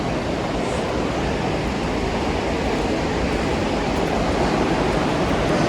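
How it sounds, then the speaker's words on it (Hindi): A river rushes below a mountain village in Turtuk, Ladakh, giving a steady loud broadband roar of flowing water with no talking over it. "नीचे नदी बह रही है"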